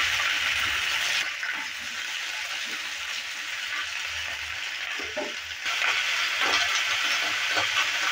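Potato and onion flower stalks fry in hot oil in a pan while being stirred, a steady close sizzle with small scrapes and clatters from the stirring, and no talk.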